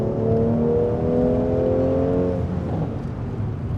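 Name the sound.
Mercedes C450 AMG exhaust burbles on downshift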